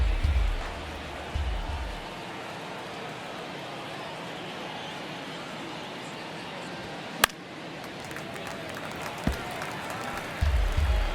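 A simulated baseball stadium crowd from MLB The Show 23 murmurs as a steady, distant roar, with a couple of sharp knocks and brief swells of noise, under occasional commentary.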